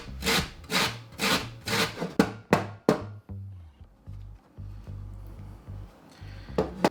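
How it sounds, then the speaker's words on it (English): An onion rubbed against the small, fine blades of a box grater, with the root left on, in a series of rhythmic rasping strokes that slow and stop, then resume once more near the end; no talking. "I went with doing the really small, fine blades on my box grater"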